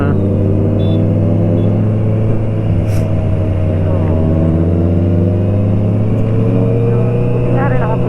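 A motorcycle engine on a group night ride along Marilaque hums in a steady, even drone throughout, with people talking over it.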